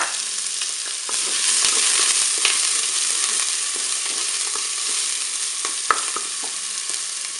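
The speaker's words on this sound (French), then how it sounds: "Mon huile est chaude. Je vais pouvoir faire revenir mes oignons." Onions frying in hot olive oil in a Cookeo multicooker, a loud, steady crackling sizzle close by, with a few sharper spatula scrapes and taps over the constant hiss and no talking.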